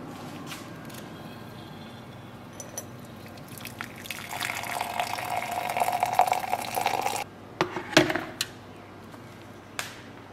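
Water from an electric tea kettle pours into a mug, a rising liquid splash and fill that swells over several seconds, then stops, followed by a few light clinks and drips, fairly close and quiet.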